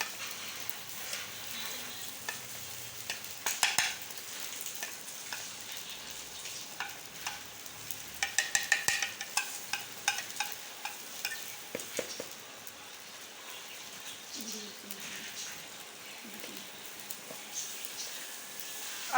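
A besan and yogurt mixture for kadhi is stirred, giving quiet intermittent scraping and clinking strokes over a soft steady hiss, with a busier cluster of scrapes midway.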